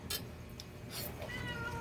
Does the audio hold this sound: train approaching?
no